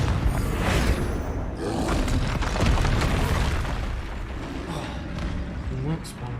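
A spell blast from a video game detonates with a loud, sustained explosive roar and rumble. The burst stays dense and continuous, with bright crackling on top, before easing slightly toward the end.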